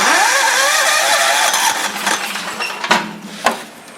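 A warm Tecumseh engine on an Ariens rear-engine riding mower cranks and fires up. Its roar settles into a rough idle with a few sharp pops as it runs.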